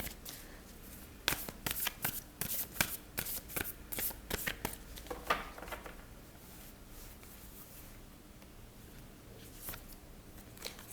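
Oracle cards are shuffled by hand for a guidance reading, producing a quick run of crisp riffling flicks and snaps that cluster densely, then thin out into a quiet room with no talking.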